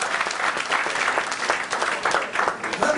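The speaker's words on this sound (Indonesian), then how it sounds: "Berikan tepuk tangan yang meriah buat Tuhan." An Indonesian church congregation breaks into loud, sustained applause during a sermon, a dense wash of many hands clapping close by, with a few voices faintly mixed in.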